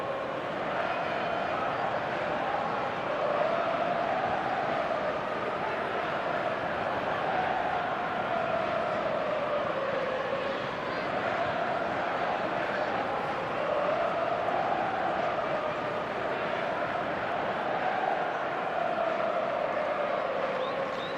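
Football crowd in the eFootball video game, a sustained stadium roar with swelling chant-like waves and scattered applause, steady and fairly loud; a commentator talks over it at times.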